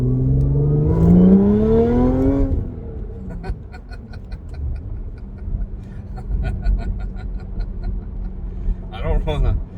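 A tuned Audi B8.5 S4 with a Jackal tune, resonators and mufflers accelerates in second gear. The engine note climbs loudly for a couple of seconds, then fades under someone talking close by.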